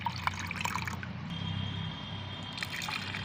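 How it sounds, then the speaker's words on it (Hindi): Plain water trickles and splashes as it is poured into homemade liquid plant fertilizer, a steady close pour with small drips and faint clinks, no speech. "अब जितना फर्टिलाइज़र है इतने ही भाग हमें इसमें सादा पानी मिला लेना है।"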